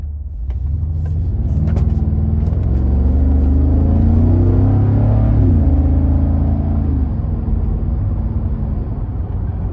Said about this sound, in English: I'm gonna give it a pull here after this red light and see what it does.